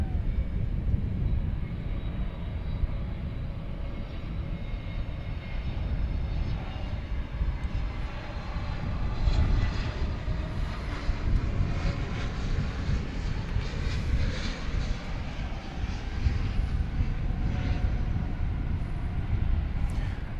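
An airliner arriving at DFW airport at night after a flight from Phoenix gives a continuous, loud broadband engine roar that holds steady and swells slightly over about twenty seconds, with no voices.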